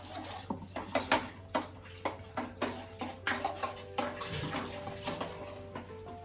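Water splashes and pours into a cooking pan of crab masala, with clinks of a spoon or utensil against the metal and a steady low hum underneath, close and moderately loud.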